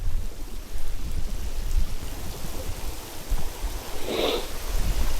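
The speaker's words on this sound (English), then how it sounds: "The weather is absolutely pissing down rain at the moment." Heavy rain pouring down in strong wind at an outdoor fishing spot, a dense continuous hiss of falling water with gusty rumble and no talking.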